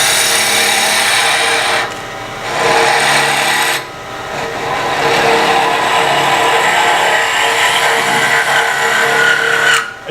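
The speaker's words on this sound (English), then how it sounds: "Drilled all the way through into the glue block." A power tool grinds and rasps into wood, drilling through into a glue block on a turned vessel, loud and close with a steady abrasive whir that dips briefly twice before resuming.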